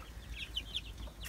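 Young chickens about six weeks old on a village farm, clucking softly with a few brief calls at a distance over quiet background.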